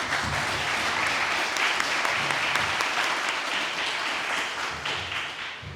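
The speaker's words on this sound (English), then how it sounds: "let's give them a round of applause again for you guys" A luncheon audience applauds the panelists with dense, steady clapping that fills the whole stretch and eases slightly toward the end.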